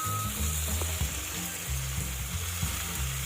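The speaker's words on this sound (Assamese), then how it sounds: "অকণমান ৰঙাচুৱা হোৱালৈকে ফ্ৰাই কৰিম।" Chopped tomatoes for a jackfruit curry fry in a hot pan, giving a continuous close sizzle and crackle with low rumbling underneath.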